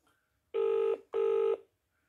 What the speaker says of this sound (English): Is your phone ringing now?